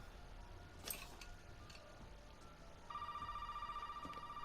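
A phone rings inside a caravan in Resident Evil 7, its steady electronic ring starting partway through and repeating in regular pulses, fairly quiet, after a few faint clicks and knocks.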